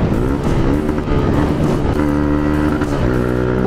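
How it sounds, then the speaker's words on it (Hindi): A motorcycle's exhaust barks and revs loudly up close, engine tone rising and falling through rapid gear shifts with a steady harmonic drone. "बस फील ले लो एग्जॉस्ट की और कुछ नहीं"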